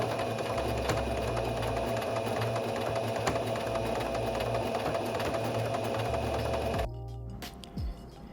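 A sewing machine stitches an invisible zipper in a steady, fast mechanical hum for about seven seconds, then stops abruptly, leaving quiet handling noise and a faint thump.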